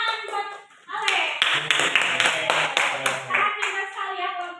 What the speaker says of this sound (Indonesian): Tepuk tangan buat Alex